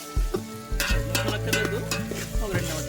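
Ginger garlic paste fries in a pan with crackling sizzles and bursts of popping, while a spoon stirs and scrapes, close and lively over low clattering hum.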